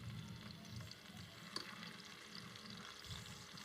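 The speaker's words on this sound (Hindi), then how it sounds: "प्याज को हल्का हल्का सा भून लेंगे" Onions fry gently in cooking oil in a pan for a gobhi kabab gravy, giving a faint, steady sizzle with soft crackles and no talking.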